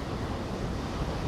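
Ocean waves at sunset in Biarritz wash in a steady, dense roar, with wind buffeting the microphone and no voices.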